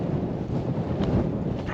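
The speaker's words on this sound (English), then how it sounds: "The wind's just coming through 10 to 15 miles an hour." Light wind of about 10 to 15 miles an hour blows steadily around a tent at a wild camp, a continuous low rushing with mild gusts buffeting the microphone.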